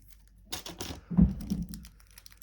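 A bag of screws for a 1:8 scale Back to the Future DeLorean model is cut open, giving a few close, brief crinkling and snipping sounds.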